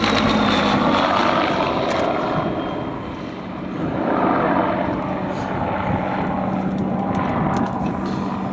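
A Spitfire propeller aircraft passes at an airshow, a loud rough engine drone that dips briefly and then swells again as it goes by.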